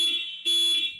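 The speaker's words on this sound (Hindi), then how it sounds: "तो एक बार बाइक का हॉर्न चेक कर लेते हैं।" A Yamaha FZS Fi 150cc motorcycle's electric horn sounds in two loud, steady blasts, a shorter one followed by a slightly longer one after a brief gap, heard close up with no talking.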